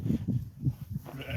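Elderly sheep on a farm bleat in a run of short, wavering calls, about five in quick succession, fairly close and clear.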